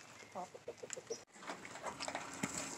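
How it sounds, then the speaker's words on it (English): Soft clucks and chirpy bird calls from a small group of chickens, close by and fairly quiet, with scattered short calls throughout. "There's the beautiful chickens!"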